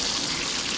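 Water gushes from an outdoor hose bib at a cabin with air in the pipes, giving a loud, steady rushing hiss that is close up and without talk.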